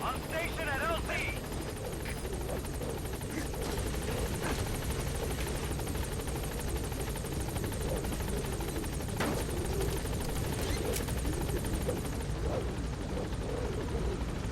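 Pequod, the transport helicopter in Metal Gear Solid V: The Phantom Pain, arriving at a landing zone, its rotor roar steady, loud and dense throughout, with a voice speaking briefly over it near the start.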